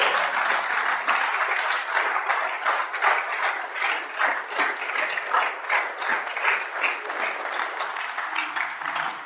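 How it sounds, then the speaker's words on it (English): Steady, sustained applause fills the Wyoming Senate chamber during a floor session as lawmakers welcome a new member named Madeline, with the dense clapping holding at an even level for several seconds. "Please welcome to the Senate, Madeline, and give her a big round of applause."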